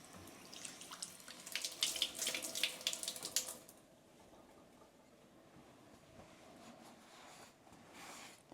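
Water runs from a kitchen tap to rinse off a plant tray, a splashing hiss lasting a few seconds before it stops, leaving faint room noise and a brief soft splash near the end.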